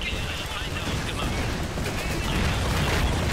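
Gunfire and explosions in the video game Iron Harvest: a dense, continuous wash of battle noise with rumbling booms and crackling shots, fairly loud and steady throughout, with no clear gaps.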